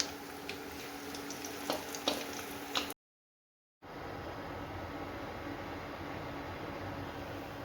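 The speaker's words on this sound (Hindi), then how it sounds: "इस तरह हम अपने सारे पकोड़े जो हैं वो निकाल लेंगे, फ्राई कर लेंगे सारे के सारे।" Pakoras deep-frying in hot oil give a steady, close sizzle with a few light clinks at the start. The sizzle breaks off for a moment of silence, then returns as an even frying hiss.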